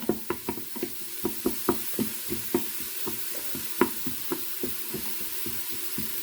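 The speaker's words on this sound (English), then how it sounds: "The sizzle on this is really good." Food sizzling in an Instant Pot pressure cooker on sauté, with a steady series of sharp clicks and scrapes as it is stirred, no talking.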